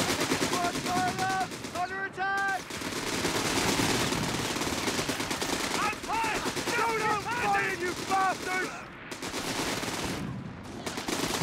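Dense, constant rattling machine-gun and rifle fire in a Company of Heroes 3 close-range firefight between Commandos and Panzer Grenadiers, with shouted voice calls heard over the near-continuous gunfire.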